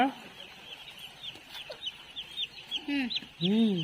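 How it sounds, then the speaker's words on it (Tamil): Several chickens and chicks cluck and chirp close by, with small high peeps scattered throughout and a couple of louder clucks near the end. "கோழி குஞ்சுடா."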